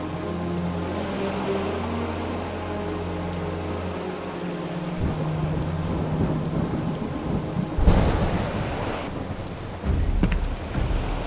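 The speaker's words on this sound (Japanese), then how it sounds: "すごい雨だな。" Heavy rain pours steadily in the Final Fantasy 7 Rebirth video game, with deep rolling thunder and a loud crack partway through, all loud and close with no voices.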